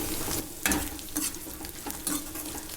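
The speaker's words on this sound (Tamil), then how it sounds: "வெங்காயம் நல்லா பொன்வறுவலாக வந்த பிறகு தான் நம்ம கறியை போடணும்" Onions sizzle and crackle steadily in a hot pan while they brown for a chicken chilli fry, with a few louder stirring scrapes that come and go. No one speaks.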